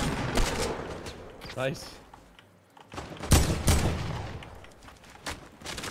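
Gunfire in a Fortnite Battle Royale squad match: several bursts of rapid shots, loud and near, with sharp cracks clustered mid-clip, while players talk over it.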